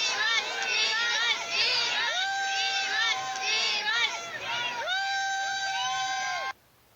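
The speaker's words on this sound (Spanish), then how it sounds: "todas las DIRs locas gritando" A crowd of fans screams continuously, with high excited shrieks and shouting layered together loudly before cutting off abruptly.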